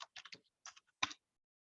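Clicks on a computer keyboard, including the Enter key, come as a quick cluster of light taps, a short pause, two more, then one firmer final press, close and crisp with no talking.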